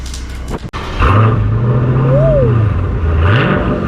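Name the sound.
Dodge Challenger Scat Pack engine revving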